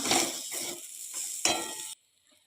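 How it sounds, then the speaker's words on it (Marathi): Bitter gourd with chopped coriander sautéing in a kadai makes close bursts of sizzling and spatula scraping in short strokes, then stops abruptly into near silence. "वरून घालूया बारीक चिरलेली कोथंबीर आता एखाद मिनिटभर चांगलं परतून घेऊया"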